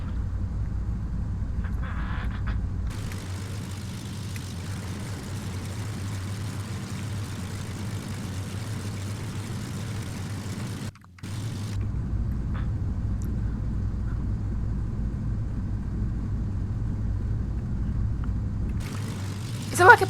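Aircraft in Flight Simulator X taxiing quickly along a runway, a steady droning engine hum that cuts out briefly midway then resumes, continuous and moderately loud.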